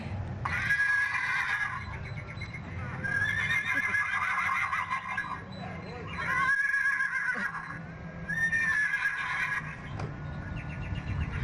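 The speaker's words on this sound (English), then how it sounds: "when I walked up, it started neighing at me. Yeah, it's a novelty horn." A novelty car horn blares a horse-like neigh, repeated several times with short gaps, loud and mechanical-sounding over a low engine rumble.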